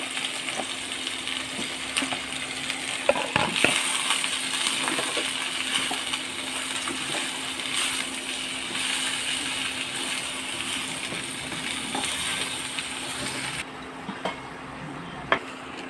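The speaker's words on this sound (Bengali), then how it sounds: "এই আমি মিনিট 2 ধরে লো আঁচে সবজিগুলোকে সাঁতলে নিয়েছি" Mixed vegetables and potatoes sauté in oil in a pan on low heat with a soft, continuous sizzle. Sharp metallic clinks of a spatula against the pan break in now and then, close and clear.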